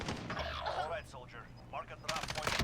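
Gunfire in Call of Duty Warzone, a battle royale shooter, with short bursts of shots and sharp impacts mixed with game noise, loudest near the end, while someone talks over much of it.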